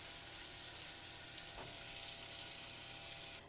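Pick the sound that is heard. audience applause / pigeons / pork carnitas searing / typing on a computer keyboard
pork carnitas searing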